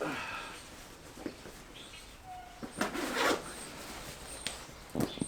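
Sea To Summit Ascent ACIII sleeping bag zipper pulled in several short, close rasping bursts with quiet pauses between them.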